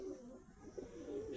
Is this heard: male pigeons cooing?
yes